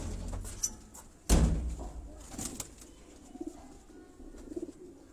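Sialkoti breed pigeons at a rural loft among hobbyists, with soft cooing and bird calls, a sudden loud thump like a door slam, and people talking in the background.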